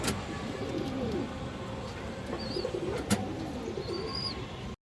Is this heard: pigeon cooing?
yes